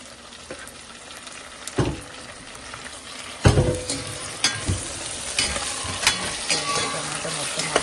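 Chopped tomato and onions frying in a pan for mushroom biryani, a steady close sizzle broken by repeated scraping stirs and clacks of a utensil.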